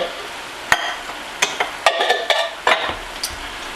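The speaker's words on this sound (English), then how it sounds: "So just to add that to the pan. Mix it in." Pinto beans being stirred into a cornbread casserole in a pan, with a run of short scraping and wet clinking strokes over a faint sizzle, no talking.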